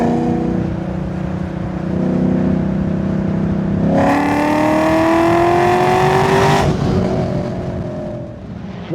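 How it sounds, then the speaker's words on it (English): An LS V8 swapped into an Infiniti M35 rumbles at a steady low idle-like drone, then the exhaust flaps open in manual mode and the note turns louder and rises as it revs up through a gear before settling back. "the flappers open in the exhaust and the car gets louder"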